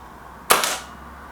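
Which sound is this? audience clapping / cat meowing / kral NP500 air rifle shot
kral NP500 air rifle shot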